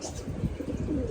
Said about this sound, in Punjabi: ਤੇ ਇੰਨੇ ਕਬੂਤਰ ਬਹਿ ਗਏ ਆਪਣੇ